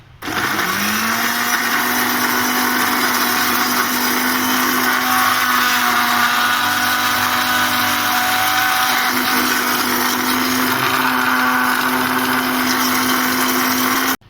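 A blender grinds mango pulp for homemade kids' fruit popsicles, a loud steady motor whine with a constant pitch running nearly the whole time, starting abruptly and holding without a break.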